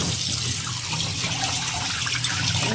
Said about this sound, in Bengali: তার মধ্যে আমি সব পাস্তাগুলো ছেঁকে নেব আগে। ও ঠান্ডা জল দিয়ে ধুয়ে নিতে হবে